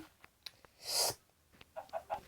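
A few short, sharp clucks from a Minecraft chicken in a Skyblock game near the end, following a brief louder squawk, with quiet background noise.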